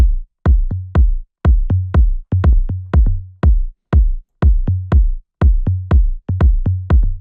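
Drum pattern with deep kick hits and tuned tom strikes in a steady, repeating groove, each hit sharp and close with short decays.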